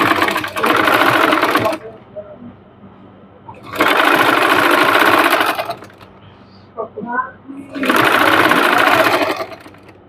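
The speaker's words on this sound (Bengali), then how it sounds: "এখান দিয়ে একটা সেলাই দিয়ে নিব" An electric sewing machine runs in three long, steady bursts, stitching fabric trim onto the hem of a pant leg, with short pauses between runs and faint handling noises in the gaps.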